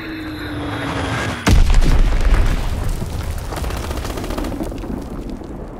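A bomb explosion in the World War II shooter Call of Duty WWII hits with one heavy, close boom. A long rumbling tail follows it, and scattered distant gunfire crackles behind.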